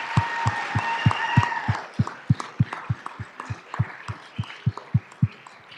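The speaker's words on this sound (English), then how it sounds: "So give them a round of applause for that for sure." Applause at a school district governing board meeting, heard as a steady, even beat of clapping in unison that carries on for several seconds at moderate loudness.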